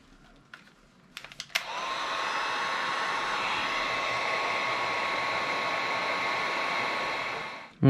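After a few clicks, a heat gun blows steadily for about six seconds to shrink a heat shrink butt splice while a Tripp Lite RS1215 is being modified; it gives a loud, even airy roar that cuts off abruptly.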